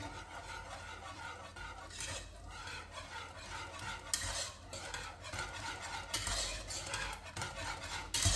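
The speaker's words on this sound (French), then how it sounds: "et là on mélange" Gelatin sheets get stirred into warm pastry cream: soft, quiet scraping and swirling strokes against the bowl, with a few brighter clinks, and no talking.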